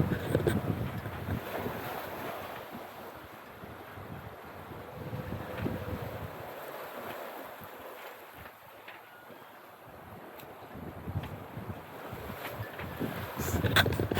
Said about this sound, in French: Le vent s'est levé aussi cette nuit.